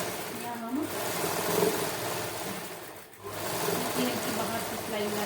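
A sewing machine runs in steady bursts while stitching a kameez, with a brief pause midway, under a person talking nearby.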